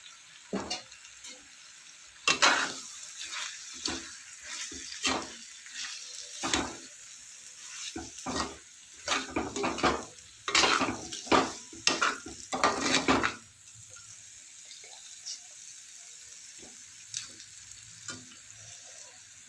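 Mutton liver fries in a pan with turmeric and chili powder. A busy sizzle runs under repeated stirring scrapes and clatters that come in quick bursts, then the sound settles to a quieter, steady hiss near the end.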